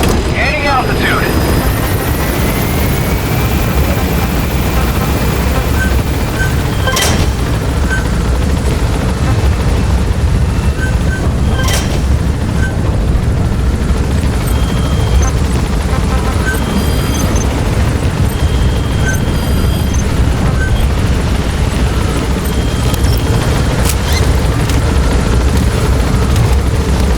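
A video game helicopter climbs with a loud, steady rotor roar that runs the whole time, with faint radio-style game voice and short beeps over it.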